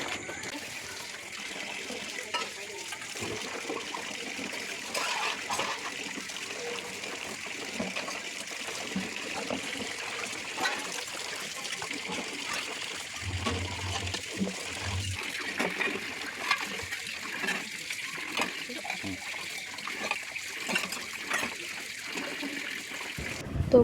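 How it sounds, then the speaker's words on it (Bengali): Steady running water from a tap flows while dishes are washed, with soft splashes and occasional clinks of utensils, a voice speaking over it at times. "তার জন্য বাসনগুলো আজকে ধুয়ে নিচ্ছি।"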